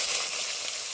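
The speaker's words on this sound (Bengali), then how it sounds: "তেলটা গরম হয়ে গেছে, এবার পেঁয়াজ কলি শালগমটা ভেজে নিব" Spring onion greens and turnip frying in hot oil, a steady bright hiss and sizzle with no pauses and no voices.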